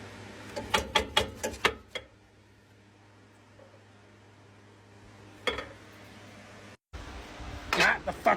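A wrench works stuck suspension nuts on a 4th-generation Toyota 4Runner, a quick run of sharp metallic clicks and clanks, then a quiet stretch broken by a few more clanks near the end.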